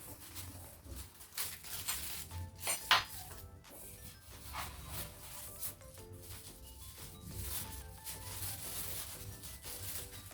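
Stainless steel stand mixer attachments, a beater and a dough hook, being handled and unboxed give off faint metallic clinks, rubbing and packaging rustles, irregular and close, with no talking.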